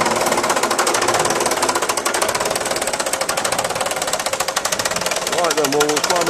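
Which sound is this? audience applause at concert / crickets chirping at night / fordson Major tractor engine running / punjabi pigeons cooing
fordson Major tractor engine running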